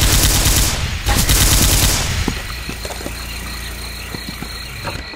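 Rapid automatic gunfire from a multiplayer shooter game, loud and dense at first, then thinning into scattered shots over a steady low rumble, with no voices.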